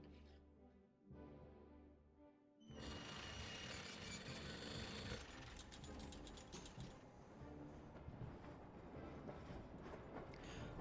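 A train in the adventure game Syberia starts moving, with a clanking mechanical rattle building into a steady loud rumble and ratcheting clatter of rolling wagons, no voices.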